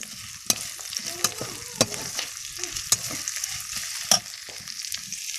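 Onion frying in hot oil in a pan with green chillies, a steady bright sizzle broken by regular scraping knocks of a spatula as it is stirred, close and alone.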